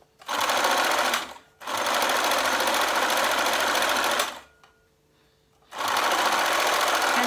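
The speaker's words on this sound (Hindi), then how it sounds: "इस तरीके से हम लोग इस पूरी पट्टी को सिलाई लगाते हुए आ जाएंगे" A sewing machine stitches double piping onto a garment sleeve in three long, steady whirring runs, with short pauses between them, close by and loud, with no voices.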